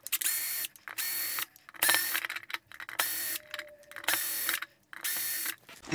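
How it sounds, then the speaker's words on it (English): A power screwdriver backs out the six screws holding a Stratocaster tremolo in place, seven short whirring bursts in a steady stop-start rhythm with brief pauses between, close and clear. "let's go ahead and remove the 6 screws holding the trem system in."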